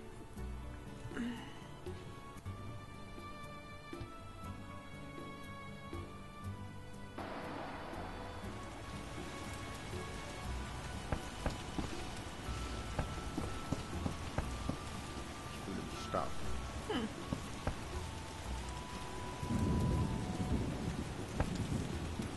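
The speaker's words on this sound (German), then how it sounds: "Wie traurig, wenn es regnet" Rain falls steadily during a thunderstorm in the video game The Witcher, with a constant wash of rainfall, low rumbling, scattered drops and brief sharper crackles under soft game music.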